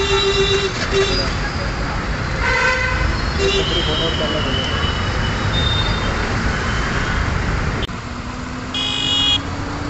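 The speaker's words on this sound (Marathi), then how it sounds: "समोर आपला हॉर्न देऊन राहिला" Vehicle horns honk repeatedly in busy road traffic during an overtaking manoeuvre, short loud toots over a steady roar of engines and road noise, with people talking throughout.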